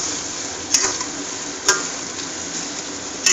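Ginger-garlic paste with whole spices, green chillies, cloves, cinnamon and cardamom frying in oil for a prawn biryani, a steady close hiss and sizzle broken by a few sharp ticks of stirring.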